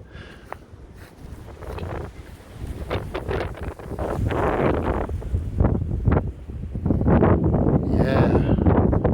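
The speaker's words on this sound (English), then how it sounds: "Yeah, it's getting windy" Gusty wind blows outdoors around a parked camper van as clouds move in ahead of a May snowstorm, a steady broadband rush buffeting the microphone and swelling louder midway, with a voice speaking briefly over it.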